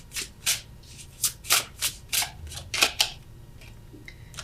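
Tarot cards shuffle in a run of about a dozen quick riffling bursts, close and crisp, each a short papery flutter, with no talking.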